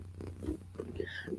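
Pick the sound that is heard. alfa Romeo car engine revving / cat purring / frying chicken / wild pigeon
cat purring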